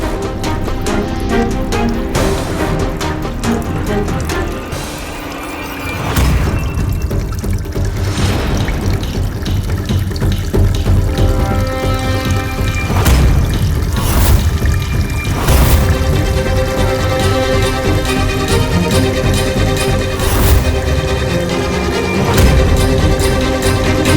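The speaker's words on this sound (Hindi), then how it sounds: "जो नल खुला छोड़ दिया है तुमने" Water gushes steadily from a tap left open at home, a loud, continuous rushing flow with occasional heavier bursts throughout.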